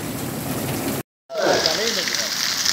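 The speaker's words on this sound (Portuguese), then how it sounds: "Chuva boa, menino." Steady rain pours in the Seridó sertão of São José do Seridó, Brazil, on a November evening. The hiss is dense and continuous, cut by a brief dropout, and a voice talks over it afterward.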